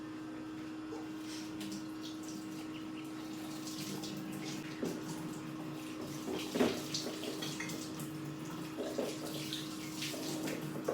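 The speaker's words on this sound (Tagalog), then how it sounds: "Maligo na ko guys" Water runs steadily from a tap for a bath or shower indoors, a constant hiss and splash with a faint hum, punctuated by a few louder splashes and knocks.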